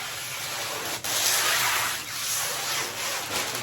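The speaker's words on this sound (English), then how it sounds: "I will spray some water on the glass itself" Water sprayed onto window glass before applying static decorative window vinyl: a steady hissing spray with repeated pump bursts, close and fairly loud, with no talking.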